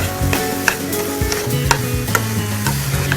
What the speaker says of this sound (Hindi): इसमें मैं डालूंगी 2 से 3 चम्मच देसी घी। एक बार इसे फिर भून लें।